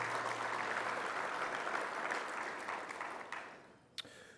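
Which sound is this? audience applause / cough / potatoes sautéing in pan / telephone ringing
audience applause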